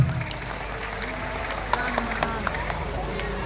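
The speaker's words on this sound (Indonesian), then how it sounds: "Yang kesini bawa istrinya boleh tepuk tangan?" Crowd at a stand-up comedy performance for a corporate anniversary at Jungle Land gives steady, moderate applause, a dense wash of clapping with occasional louder individual claps and faint voices mixed in.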